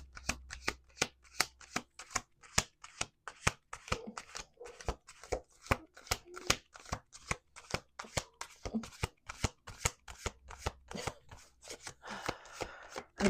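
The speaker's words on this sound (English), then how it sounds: "Let's do 2 more shuffles." A deck of playing cards shuffled again and again by hand at a table among friends, sharp rapid riffling bursts and snaps repeating in quick rhythm, close and crisp, with brief pauses between shuffles.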